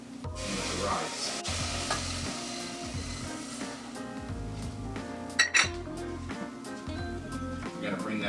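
Broth poured into rice and onions frying in a pan, a busy sizzle with spoon clinks and scraping against the pot, someone talking throughout and a sharper clatter near the end.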